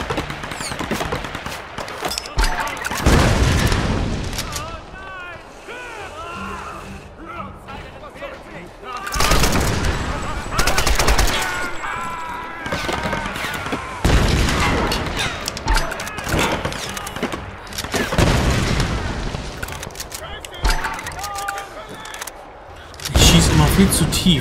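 Repeated gunfire in the Tomb Raider video game, with several loud bursts and volleys spread across the stretch. Someone talks in German between and over the shots.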